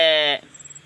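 A single short bleat from a goat grazing in a plantation, loud and close, lasting under half a second before fading into faint background noise.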